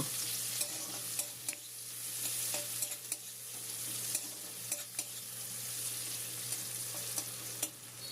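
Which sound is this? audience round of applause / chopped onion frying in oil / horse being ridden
chopped onion frying in oil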